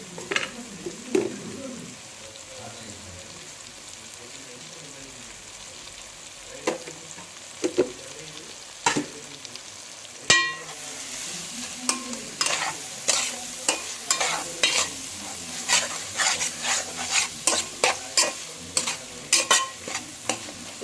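Prawns and gongura leaves fry in a pan while a spoon stirs them, giving a steady sizzle under repeated scraping strokes that turn quick and rhythmic in the second half.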